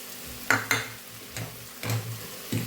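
Peanut powder being stirred into sukhi bhaji in a pan: a few short scraping strokes of a spoon against the pan, with soft sizzle between them, close and fairly quiet, no talk.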